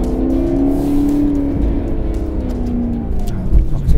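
Maserati GranTurismo exhaust note revving near 4,000 rpm, a loud, steady engine drone with strong low harmonics that holds throughout and swells slightly at the end, with no talking over it.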